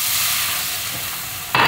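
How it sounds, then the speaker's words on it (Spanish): Water poured into a hot frying pan that already holds butter, in a home kitchen while baking bread: a loud, steady sizzle and hiss of steam running throughout, with a brief scrape or splash near the end. "Al sartén que tengo aquí voy a echarle agua."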